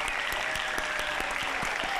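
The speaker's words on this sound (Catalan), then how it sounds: "Un fort aplaudiment per les majorets." Steady applause from an outdoor crowd for a troupe of majorettes at a summer evening event in La Llacuna, dense clapping filling the whole stretch at an even level, with faint voices underneath.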